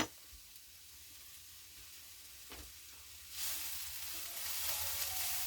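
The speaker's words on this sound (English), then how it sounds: "Let me just saute this up a little bit just to get these a little tender." Sliced bell peppers sautéing in a pan for fajitas, starting as a faint low sizzle with a light knock or two, then swelling into a louder, steady frying hiss, close and without talk.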